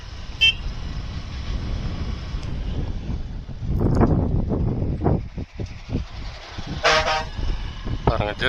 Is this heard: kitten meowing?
no